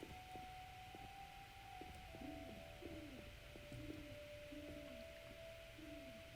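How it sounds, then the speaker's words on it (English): Soft, repeated hoots of an owl in the video game The Witcher, evenly spaced low calls over a faint background with a sustained tone and light ticking. "I hear an owl."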